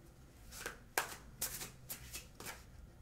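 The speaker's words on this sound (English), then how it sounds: "Let's see if one card of my psychic tarot wants to come out and do any clarification on this." A deck of tarot cards is shuffled by hand, giving about six soft, quick riffling bursts at a steady pace, close and quiet against a calm room.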